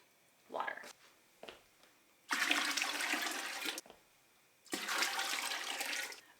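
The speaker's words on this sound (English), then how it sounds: "now I need to fill this quite a bit with water." Water pours from a tap into a pressure canner during fall apple canning, coming in two loud sustained rushing bursts of filling water, separated by short pauses with a few faint clunks.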